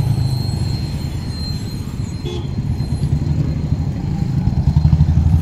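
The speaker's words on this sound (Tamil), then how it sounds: "ட்ரெயின்" A train rolls past with a dense, rumbling clatter that grows louder toward the end, marked by a brief horn toot partway through.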